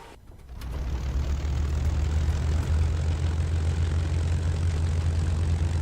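A simulated propeller aircraft engine in the Cliffs of Dover flight game cranks and fires up, then settles into a loud, steady low idle drone that holds alone to the end.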